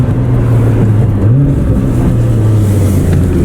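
An Audi R8 V10 engine idles and revs with a loud, deep droning tone that rises and falls briefly, filling the short clip close up.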